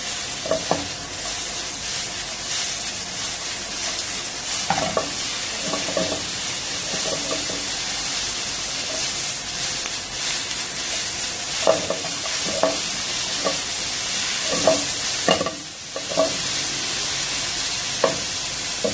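Tomatoes frying in a pan for an Afghani omelette, a constant close sizzle with scattered scraping and clacking strokes of a spoon stirring through, no talk.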